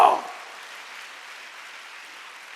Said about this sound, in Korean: 하나님께 박수 치란 말이야.